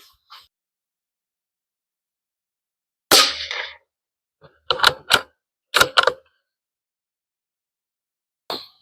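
Rifle shots from a 17 HMR rimfire at targets, several sharp separate cracks spaced a second or two apart, a pair fired close together, with quiet between.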